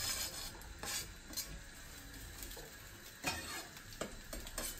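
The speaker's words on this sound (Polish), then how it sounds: "Łączymy wszystkie składniki na patelni." Ingredients sizzle steadily in a frying pan while being stirred, with scraping strokes and occasional louder clatters of the utensil against the pan, close and continuous, no talking; the dish is skrei cod with chorizo and sweet paprika.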